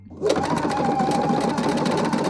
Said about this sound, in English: So I'm going to just zigzag this end so that way all these little threads and fibers don't fall apart.